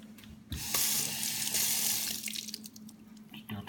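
Tap water runs steadily into a sink as a fish fillet is rinsed, the splashing close and continuous, briefly louder mid-clip before thinning out with small drips and handling noises.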